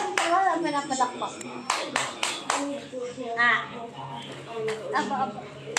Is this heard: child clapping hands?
yes